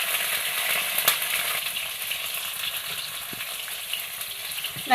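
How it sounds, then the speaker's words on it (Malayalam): A whole pod's worth of peeled garlic cloves fries in hot oil, giving a steady moderate sizzle with occasional light clinks and crackles. "1 കുടം വെളുത്തുള്ളി അരി അത് ഇട്ട് കൊടുക്കാം"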